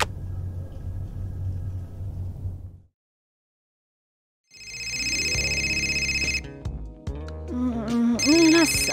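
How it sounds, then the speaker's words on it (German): A telephone rings in the video game Fahrenheit: Indigo Prophecy, a loud, steady electronic trill that starts after a low rumble and a gap of silence and continues to the end, later mixed with a chiming melodic tone. "Lass einfach klingeln, Schatz."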